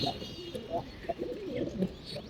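Pigeons in a loft coo in low, throaty, repeated calls close by, with fluttery rustling and faint background voices.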